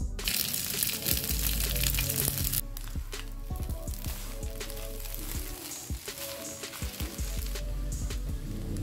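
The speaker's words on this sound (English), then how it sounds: "I add spring onion to get more delicious taste of nasi goreng." Nasi goreng frying with spring onion tossed in, a steady loud sizzle broken by a brief pause, then crackling, scraping and clattering of the spatula through the pan, with no talk.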